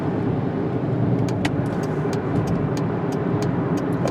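A silver 2004 Pontiac Grand Am SE sedan drives along, its engine and road noise forming a steady, moderately loud hum heard from inside the car, with a few faint ticks.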